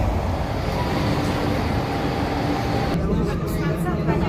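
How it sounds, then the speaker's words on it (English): A Porto metro train rumbles along with a steady broadband roar and low mechanical drone from inside the carriage, a faint tonal whine riding on top, and people's voices mixed in. "So we're off on the metro today."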